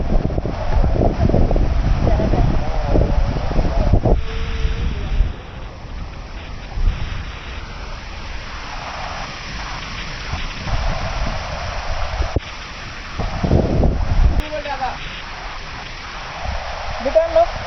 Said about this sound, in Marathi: हा वॉटरफॉल.